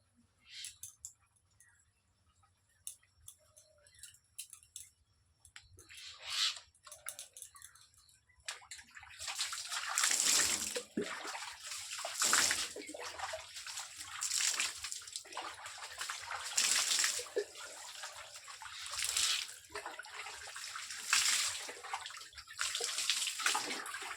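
Cold water splashes and pours from a bucket during a morning bath in winter, in loud repeated gushes with dripping between them after a quieter start.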